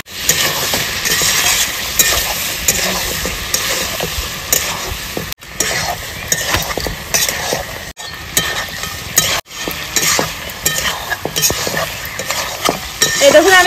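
Goat mutton pieces are stir-fried with spices in a pan, a loud continuous sizzle broken by repeated scraping and stirring strokes, with a few brief pauses.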